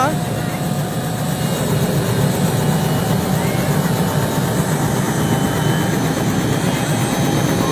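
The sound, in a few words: helicopter taking off from helipad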